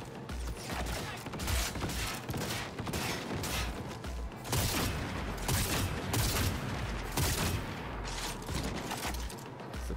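Sustained turret gunfire in the video game Cyberpunk 2077, a dense unbroken barrage of rapid shots with booming impacts running the full length, loud and close.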